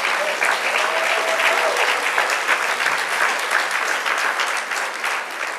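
A church congregation at a women's gathering applauds in a dense, sustained wash of clapping that holds steady at an even level throughout.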